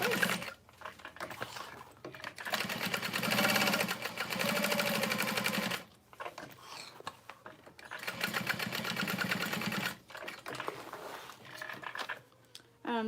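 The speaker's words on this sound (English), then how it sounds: "You just sew that box in place." A sewing machine stitches a box onto a wallet in long, loud, rapid mechanical runs, stopping briefly between them, close up with no speech.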